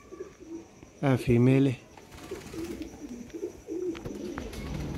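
Pigeons at a loft setup coo softly in the background, low and faint, with a few scattered coos after a man's short spoken remark near the start.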